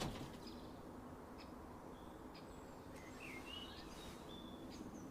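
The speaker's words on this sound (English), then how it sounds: "Blackbird." Blackbird song in the distance, a few brief whistled phrases over a steady outdoor rumble in a garden, faint and intermittent.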